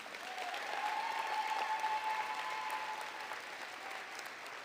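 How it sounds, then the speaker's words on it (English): Steady audience applause fills the hall at a 4-H closing assembly at Oklahoma State University, a dense wash of clapping from a large crowd with a faint tone running beneath, tapering gently at the end. "Give her another round of applause."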